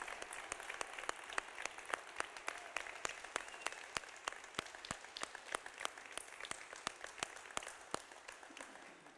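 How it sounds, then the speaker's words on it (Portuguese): A church congregation claps together in a steady rhythmic beat at a Sunday service, the sharp claps evenly spaced and sounding somewhat distant throughout. "Vamos dar uma salva de palmas para Jesus"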